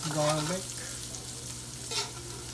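Chopped garlic frying in hot oil on low fire, a steady close sizzle with faint stirring scrapes; a short voice fragment sounds at the start.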